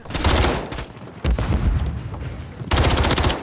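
Rapid automatic gunfire in a video game comes in dense, loud bursts, with a brief lull and then another sustained volley of close shots.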